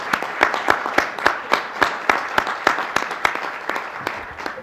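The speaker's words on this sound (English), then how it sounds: "A big round of applause." At a board of directors meeting, a small group gives an award recipient a round of applause: distinct, fairly sparse claps in an uneven rhythm, close and moderately loud, with no speech over them.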